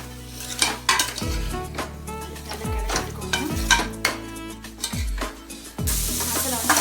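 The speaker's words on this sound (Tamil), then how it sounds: "நல்லா கிளறி விட்டுக்கோங்க." A spoon scrapes and knocks around a pan as chicken is stirred through masala, giving several close clattering strokes over a steady background sizzle with no speech.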